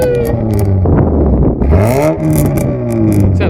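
A car with an aftermarket exhaust revs hard close by, the engine note climbing and falling in steady sweeps while the exhaust crackles and pops, loud and continuous with no talking.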